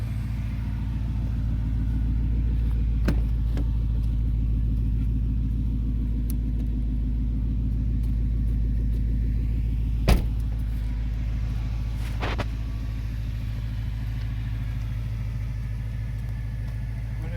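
A 2009 Ford Mustang with a Coyote engine swap runs steadily nearby, giving a loud, constant low rumble at idle with a couple of brief clicks and no voices.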